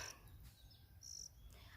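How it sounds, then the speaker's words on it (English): Crickets chirping outdoors, faint high-pitched trills recurring in short bursts against a quiet backdrop, with soft bird calls and low wind rumble. "chirping of the birds, and the wind, and the silence, and the wadudu, the crickets"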